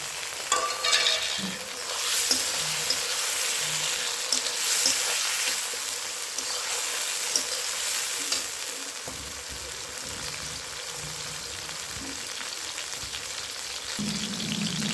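Chopped tomatoes hitting a pan of lightly browned onions sizzle steadily while being stirred, a continuous close frying hiss with scraping stir sounds, no voices.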